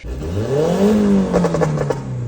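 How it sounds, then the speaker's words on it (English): A turbocharged Mazda Miata engine revs up, its pitch rising then easing back, loud and close, followed by rapid rattling pops. "doing some revving and having some fun there"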